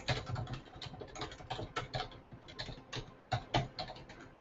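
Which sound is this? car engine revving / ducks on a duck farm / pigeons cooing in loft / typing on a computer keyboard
typing on a computer keyboard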